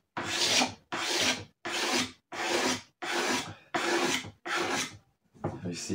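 A cutter blade scrapes the fuel tank of a 1993 Honda CR 125R in rapid, rough rasping strokes, about eight of them in steady rhythm, each lasting roughly half a second, loud and close with no talking.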